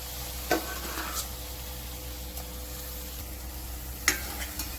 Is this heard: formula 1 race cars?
no